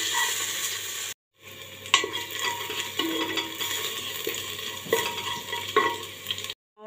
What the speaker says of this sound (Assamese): এইখিনি অলপ মই ভাজি ল'ম তেলত এয়া সৰিয়হৰ তেল দিছোঁ মই ইয়াতে